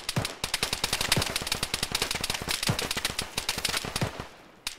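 Dense rapid gunfire in the video game Arma during a ShackTac operation, continuous bursts of close shots with a few heavier booming reports, loud throughout with no speech.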